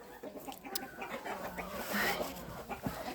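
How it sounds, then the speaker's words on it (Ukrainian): Chickens cluck and murmur close by in short irregular bursts in a farmyard where ducks are also out, with scattered rustling and a faint voice in the background. "Випустила трішки качок поганяти. І зайшли воно туди кури."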